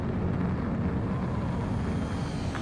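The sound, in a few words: fighter plane attempting to land in Ace Combat 7 video game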